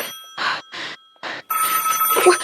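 An old-fashioned telephone bell rings in three short, evenly spaced bursts, then a rougher, noisier burst follows; no one speaks over it.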